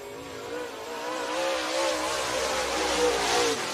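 A race car rolling out onto the track at Needmore Speedway in Norman Park, Georgia, its engine droning with a steady rising and falling tone, moderately loud and fairly near.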